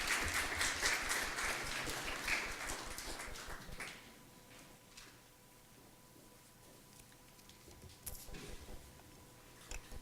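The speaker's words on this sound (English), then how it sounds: "If we can give all of them a round of applause" Audience applause at a student leadership recognition luncheon, a brisk wash of clapping that fades after a few seconds into quiet room tone, with a few scattered claps later.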